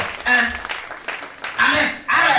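A church congregation at a New Year service breaks into bursts of clapping and cheering mixed with a speaking voice, loud and close in uneven waves.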